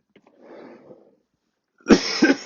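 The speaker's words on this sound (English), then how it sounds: "As I cough." A faint breathy sound, then a short pause before a loud, sharp cough bursts out close by.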